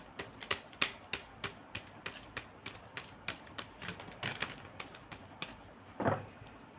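Tarot cards in a final shuffle, a steady run of soft, regular card taps and flicks, close and faint, ending in a slightly louder shuffle burst.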